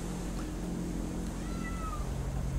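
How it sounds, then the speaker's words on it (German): A cat meows in a quiet, high rising-and-falling call over a steady background hum and rumble, heard during a snowy horror game set in the mountains. "Die Katzen. Ja, denn die feuern mich hier an."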